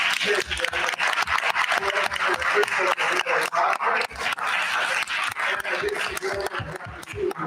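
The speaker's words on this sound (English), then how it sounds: "You can applaud, yes." An audience at a diversity, equity and inclusion speaker event applauds a board member, with distinct, fairly close claps in a lively, uneven rhythm, some laughter mixed in.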